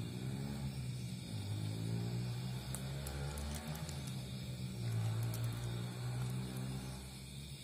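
A steady motorcycle engine drones at a distance in the rural countryside, a low rumble that swells and fades slightly without stopping, with no voices.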